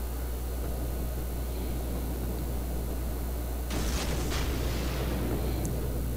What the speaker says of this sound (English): There are the torpedoes you can see behind the island, and boom! Caused flooding, sunk him.